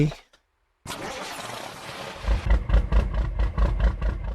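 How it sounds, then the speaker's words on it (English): In American Truck Simulator, a lumpy truck engine starts after a brief silence. It then hammers against its launch-control rev limiter in a rapid, evenly spaced series of loud, deep stuttering pulses, with someone talking over it. "One of the things I really love about these lumpy engines is the launch control sort of rev limiter sound effect here"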